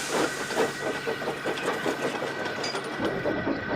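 Rhythmic chuffing and hissing of a cartoon steam engine, steady puffs running continuously over a bed of steam hiss, moderately close with no talk.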